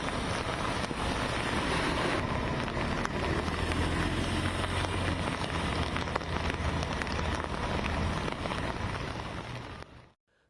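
Heavy monsoon rain pours down in Mumbai, a dense, loud, continuous hiss with some wind-like rumble. It stays steady for about ten seconds before fading out abruptly. No one speaks.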